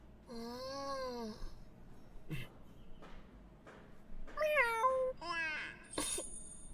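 A human voice imitates a fox demon's cry with several drawn-out, cat-like meows and mewls, rising and falling, close and clear between short pauses.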